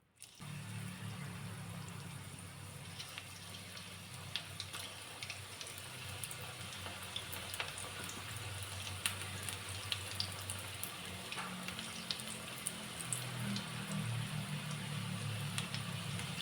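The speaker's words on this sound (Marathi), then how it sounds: "भजे केल्यासारखं आपण हे तळून घेणार आहोत" Colocasia leaf rolls deep-frying bhaji-style in very hot oil give a steady, continuous sizzle and bubbling crackle that holds evenly throughout, with no talk over it.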